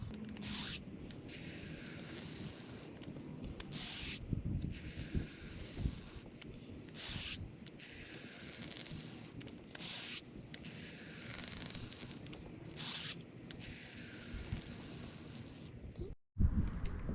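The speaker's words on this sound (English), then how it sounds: "now we're going to be pumping some fresh fluid from the caliper up to the master" Brake fluid is pumped through the front caliper of a 2016 Mazda 6 back up to the master cylinder, heard as a steady hissing, rushing flow in repeated strokes with brief pauses, ending in a short clunk.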